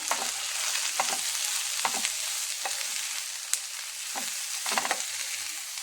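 Chopped brinjal sautéed in oil makes a steady bright sizzle throughout, with repeated stirring strokes at roughly one-second intervals, close and clear, with no voices.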